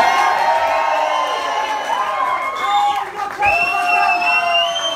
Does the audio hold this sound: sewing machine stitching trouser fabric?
no